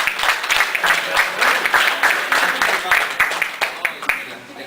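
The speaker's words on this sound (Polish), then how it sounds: "Prosimy o brawa dla trzech najlepszych." A crowd at a local checkers championship in Trąbki Wielkie, Poland gives the top three players steady, close, lively applause that lasts several seconds, with some voices mixed in.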